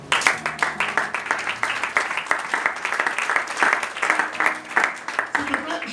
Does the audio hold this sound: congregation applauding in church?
yes